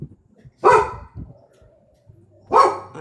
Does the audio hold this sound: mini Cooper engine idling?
no